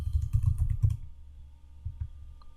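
A burst of rapid key presses on a computer keyboard, a quick run of close, soft clicks, then a pause and a couple of lone taps near the end.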